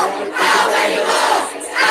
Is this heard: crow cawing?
no